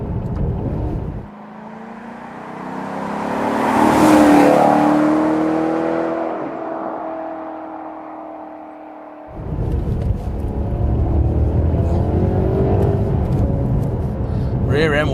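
A 2010 Maserati GranTurismo S pulls hard, its engine building to a loud, rising roar, then dropping back and swelling again as it accelerates. Someone talks over the engine throughout.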